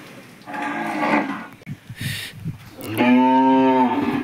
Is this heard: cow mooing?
yes